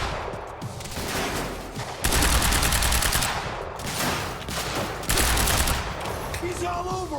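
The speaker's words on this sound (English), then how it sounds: "Alright, grabbing the assault rifle now." Sustained automatic assault rifle fire in the action video game Quantum Break, two dense loud bursts in a continuous volley over ambient combat noise, close and heavy.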